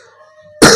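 A single loud, harsh cough bursts out close by at the end, after near silence.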